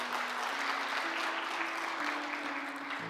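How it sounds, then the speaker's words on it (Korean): Congregation at a Friday prayer meeting in a Daegu church applauding to glorify God, a steady dense wash of clapping over a sustained organ or keyboard tone throughout. "우리 하나님께 영광의 박수 이 시간 함께 올려드리기 원합니다."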